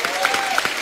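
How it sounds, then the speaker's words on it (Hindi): Studio audience applause on a comedy talk show, a dense, steady patter of many hands clapping through the short stretch with no pause. "जोरदार तालियां"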